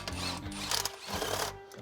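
A wrench works loose vehicle transmission bolts, giving a near, continuous mechanical whirring and rattling with small surges throughout.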